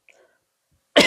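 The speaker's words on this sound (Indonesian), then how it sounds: "Aduh, batuk dulu." A single abrupt cough bursts out loudly after near silence, close to the listener.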